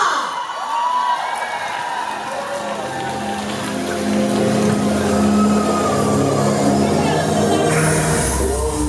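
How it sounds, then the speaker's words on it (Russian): A large concert crowd in Yakutsk cheers and applauds continuously at a 2000s-themed disco show, a dense, steady roar of clapping and shouting that swells toward the end. "Аплодисменты, ребята!"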